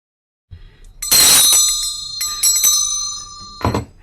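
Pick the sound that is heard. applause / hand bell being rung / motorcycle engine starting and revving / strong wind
hand bell being rung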